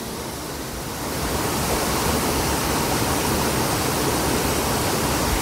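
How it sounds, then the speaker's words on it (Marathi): A Konkan river where fishing is set up, flowing fast, with a steady broadband rush of water that grows a little louder after the first second and then holds evenly. "इथे पाणी खूप वाहत आहे"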